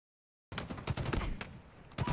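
Gunfire from Halo Infinite multiplayer comes in dense, rapid bursts of close shots, starting abruptly after a brief silence and continuing loud and rattling.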